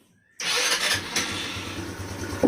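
An ER150 motorcycle engine, just fitted with a homemade oil cooler, cranks and catches abruptly after a moment of silence, then settles into a steady, close, fairly loud idle with a slight rev at the end.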